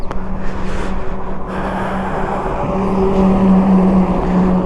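An Aprilia V4 sport motorcycle, either the RSV4 1100 Factory or the Tuono 1100 V4, being ridden, its engine holding a steady, loud drone that rises in pitch and intensity toward the end, with no talk.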